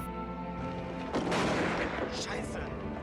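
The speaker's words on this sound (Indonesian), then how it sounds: "salah satu prajurit bernama Velman secara tak sengaja menekan pelatuk senjatanya hingga menimbulkan suara tembakan." A sudden loud burst cuts through a steady background, a single gunshot-like crack followed by a rumbling decay and lingering noise.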